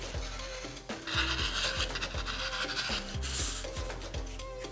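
Fabric is cut into full-width strips 2.5 inches wide for a quilt, giving a steady, close rasping scrape that runs almost continuously with brief pauses, over a low tonal background.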